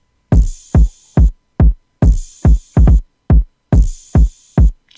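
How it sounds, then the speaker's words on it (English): Layered kick drum in a trap beat, punchy low thumps with a fast pitch drop landing in a steady pattern, over a bright hissing high layer that cuts in and out in bursts. "I layered that with this kick. I just put it on every bar."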